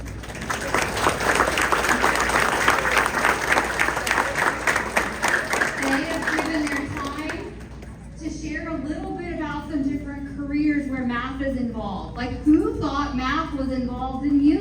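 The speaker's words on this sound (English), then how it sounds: "give a big round of applause" Applause from an audience at a school evening event for fifth graders and local businesses, dense clapping for about seven seconds that fades as a voice begins talking.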